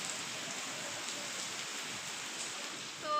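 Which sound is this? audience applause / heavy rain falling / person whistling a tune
heavy rain falling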